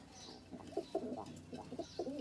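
An Indian Kaldom pigeon coos close by in soft, throaty repeated phrases, several quick rolling coos in short bursts over a quiet background.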